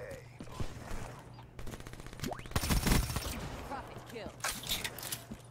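Bursts of LV8 Basilisk gunfire in a first-person shooter, mid-level and sharp, firing in short clusters over steady game ambience, with a louder stretch in the middle and scattered mechanical clicks.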